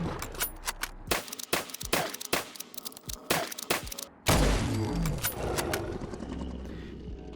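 A bolt-action sniper rifle in Fallout 4, fired at a Deathclaw, cracks out a rapid series of sharp shots, followed by a louder, denser burst of gunfire and rumble.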